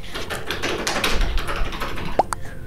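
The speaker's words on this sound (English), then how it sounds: "I just make a lot of noise typing" Rapid, noisy tapping on a computer keyboard, a steady run of close clicks filling the clip with one sharper knock near the end, no talking.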